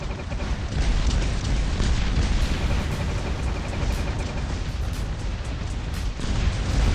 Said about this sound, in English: we have a shell explosion coming off here